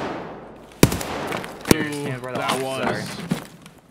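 Gunfire in the Escape from Tarkov video game: three sharp, loud single shots spaced about a second apart, heard under ongoing talk by players.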